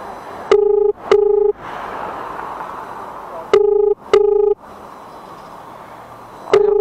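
A phone ringback tone while calling a number that goes unanswered: paired electronic ring bursts repeat about every three seconds, three cycles, loud and close over a faint background hiss.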